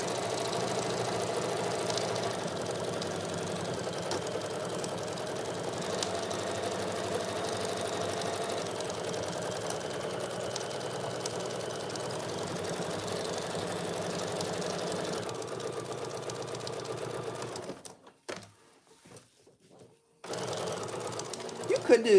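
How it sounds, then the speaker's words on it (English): Bernina sewing machine quilting oven mitts, running in a steady close mechanical whir with a fast needle rhythm, stopping briefly near the end before starting again, with a voice talking over it. "I decided to do it on my Bernina because my Bernina does better with quilting"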